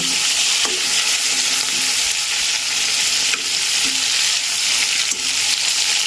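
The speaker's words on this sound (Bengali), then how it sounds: "এবার মাছগুলা আমি ভালোভাবে ভেজে নিব" Prawns fry in hot oil in a pan, giving a steady, loud, close sizzle throughout with a few faint clicks and stirring taps.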